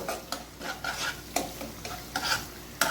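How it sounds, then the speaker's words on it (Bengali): Ginger garlic paste fries in a pan for chicken korma, a continuous sizzle broken by repeated scraping strokes of a spoon stirring, close and moderately loud with no talking. "এই আদা রসুন বাটাটা আমি 1 মিনিটের মতো ভেজে নেব।"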